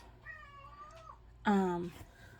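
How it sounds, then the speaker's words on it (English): An indoor house cat meows twice: first a softer, drawn-out meow, then a louder, sharper one about a second later, both close to the microphone against a quiet room hum. "I have a bunch of cats and little pets and everything."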